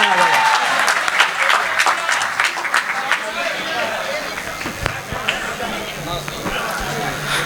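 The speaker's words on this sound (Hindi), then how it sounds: "आप लोगों ने मेरे सम्मान में जो तालियां बजाई हैं" Loud, brisk applause from a crowd in a college hall, many hands clapping together close by, slowly thinning out as a voice speaks over the tail end.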